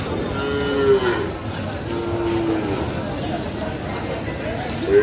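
Cattle and calves at a busy Bangladeshi cattle market give a couple of low drawn-out moos, moderately near, over steady crowd murmur and background noise.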